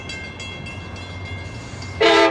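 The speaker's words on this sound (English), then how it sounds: "The next outbound train approaching your station will not stop." A Metra Rock Island commuter train runs through Blue Island station at rush hour, a steady rumble of wheels on rail building until a loud, sharp horn blast sounds at the end.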